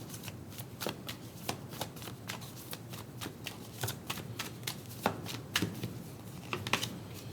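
Oracle cards are shuffled by hand for a tarot reading, a run of crisp riffling snaps and soft flicks at an uneven pace, close by over a quiet room hiss.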